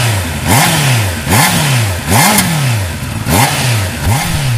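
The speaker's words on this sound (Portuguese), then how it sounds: "Este é o som de série, o som stock da CB650." A stock-exhaust Honda CB650R motorcycle revs hard in about five quick, evenly spaced throttle blips, each rising and falling sharply, loud and close, with no voices.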